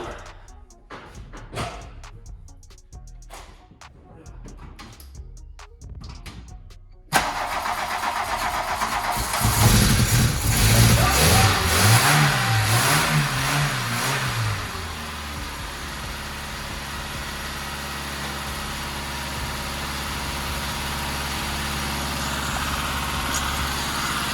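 A VW Golf Mk2 barn-find engine with a freshly filled fuel filter cranks in short, uneven bursts, then suddenly catches with a loud, spluttering roar, revs unevenly and settles into a steady, close idle.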